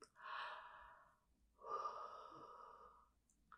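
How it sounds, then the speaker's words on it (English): Two slow, deep breaths are drawn during a close, soft-spoken ASMR lung exam with a stethoscope, each one a long airy rush, with a quiet pause between them. "So put it then on, take a deep breath in."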